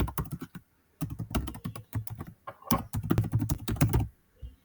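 Fingers tap out a username on a computer keyboard in quick, close, crisp keystrokes, with one brief pause after the first key and a steady run of typing after it.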